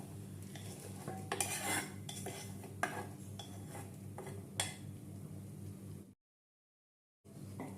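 Fried tempering goes into a pressure cooker of five-lentil khichuri, heard as soft metal spoon clinks and stirring scrapes over a low hum, then a short silence and the hum returning.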